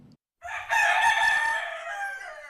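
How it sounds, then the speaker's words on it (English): Roosters rescued from cockfighting in Grays Harbor County, Washington, crowing loudly and close, one long drawn-out crow lasting about two seconds after a brief quiet gap. "Nearly 80 roosters were rescued from cockfighting in Grays Harbor County, Washington"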